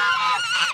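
Geese on a farm property with pigs and chickens give a loud, close, drawn-out honk lasting under a second.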